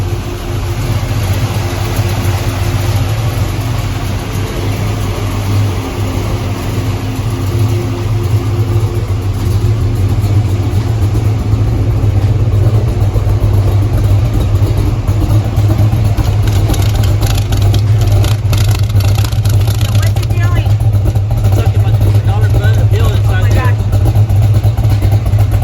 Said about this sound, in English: It's got a 540 big blocks in it.